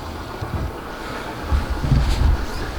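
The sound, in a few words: wind blowing in an abandoned factory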